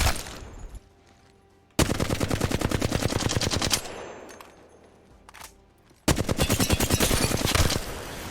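An R99 submachine gun in Apex Legends fires two long rapid full-auto bursts, loud and close, separated by a quieter lull with faint background noise.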